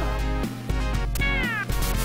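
Several loud, close meows from a cat in the Sega Genesis game Moonwalker, repeated strained cries with short gaps between them, heard alone over a steady game background.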